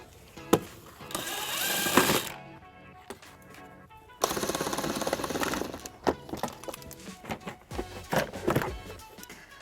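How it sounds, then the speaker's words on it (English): A 14mm socket on a ratchet works loose plastic nuts on a 2017 Kia Sorento during a trailer wiring harness install, giving rapid clicking bursts in two long runs with a pause between, loud and close with no talk. "we're going to use a 14mm socket to remove the plastic nuts"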